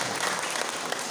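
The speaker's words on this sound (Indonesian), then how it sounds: "Tepuk tangan aku jeuh ayeuna pisan" Dense, continuous applause rises from a crowd at an Islamic tabligh akbar gathering marking Indonesian Independence Day, loud and steady throughout with no clear voice above it.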